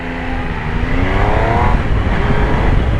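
A powerful motorcycle with a quick shifter and auto blip accelerates hard nearby, a loud, raw engine note rising briefly before a quick shift cuts in over rushing road noise.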